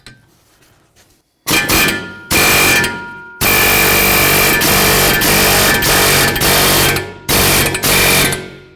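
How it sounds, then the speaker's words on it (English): Hydraulic or pneumatic press tool driving a Jeep Liberty front axle out through its wheel bearing, loud sustained grinding buzz in several long bursts separated by brief silent breaks, close and harsh. "Now it's going to be time to push the axle through the bearing."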